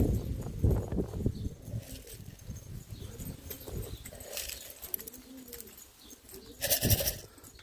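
A homing pigeon returns from flight, with soft repeated cooing and a flutter of wings outdoors over a low background rumble, briefly louder near the end.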